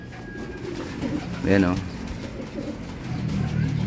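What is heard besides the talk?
racing pigeons cooing in loft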